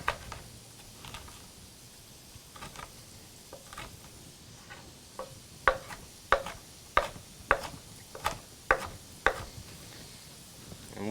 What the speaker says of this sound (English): I'm going to chop this up about the same size as your onions.